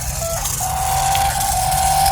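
A gesture-sensing RC stunt car whirs steadily as it drives and spins in 360s, a thin high motor whine running continuously at close range alongside loud background music.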